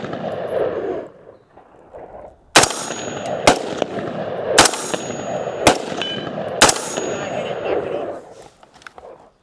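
Firearm shots ring out in the Arizona desert, five sharp loud cracks spaced about a second apart, each followed by a metallic clang of a struck target, with people talking in between.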